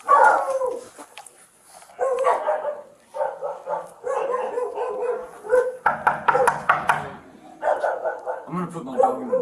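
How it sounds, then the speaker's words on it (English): A small dog barks and yips repeatedly in a home, close and loud in quick irregular bursts, with some whimpering between them and people talking. "I'm gonna put my dog in the bathroom, okay?"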